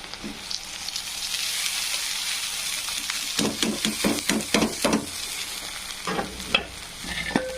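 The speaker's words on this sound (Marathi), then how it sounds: "नंतर मी टाकून घेणार आहे उकडलेले तांदूळ।" Boiled rice tipped into a hot pan of pulao masala and stirred, a steady close sizzle broken by a run of scraping, clattering spoon strokes mixing the grains.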